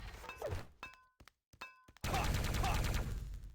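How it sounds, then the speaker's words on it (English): A grenade launcher round in the Quake 3 video game bursts in a sharp, loud explosion with a rumbling tail, preceded by several quick, hard game thuds and clicks. "It actually times the grenade explosion, so you can get an accurate jump when it explodes."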